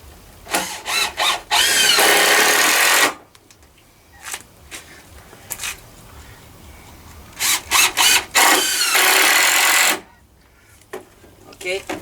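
Power drill driving screws through a wooden floor into the braces of a firewood hut, in several loud sustained bursts with short pauses and quieter handling noises between.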